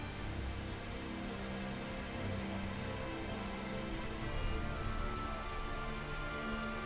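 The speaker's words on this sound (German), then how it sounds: "So wie es hier regnet und düster aussieht." Steady, dense rain falls in a gloomy town in the video game Tales of Zestiria, a constant even hiss with no breaks and nothing else standing out.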